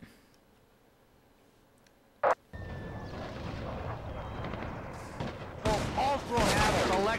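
Gunfire in the Vietnam War video game Shellshock Nam '67 on PS2: after a quiet start, one sharp loud shot, then dense sustained battle noise with rapid bursts and rumbling, loud and close.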